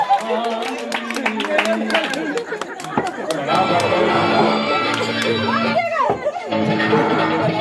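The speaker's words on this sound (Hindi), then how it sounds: "तालियां सभी लोग, तालियां तालियां" Applause at a children's outdoor stage play staged for a Ganesh Chaturthi festival, scattered claps mixed with crowd chatter and children's voices, with a short burst of more excited noise near the end.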